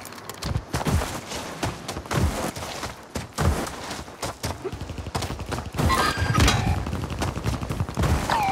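Rapid bursts of gunfire from the shooter game Warzone 3, sharp cracking shots in clusters throughout, with a few brief in-game sounds mixed between the volleys and no talk over them.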